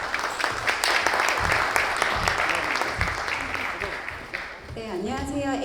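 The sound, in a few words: audience applause at a conference talk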